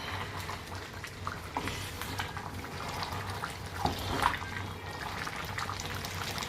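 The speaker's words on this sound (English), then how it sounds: "my Eru has been on the fire for about 10 minutes now" A pot of Cameroonian eru with spinach bubbles and simmers steadily on the stove, with soft popping and gurgling, a few sharper pops standing out, and no voices.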